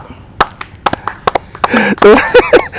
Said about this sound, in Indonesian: Nyobainers, tepuk tangan dulu.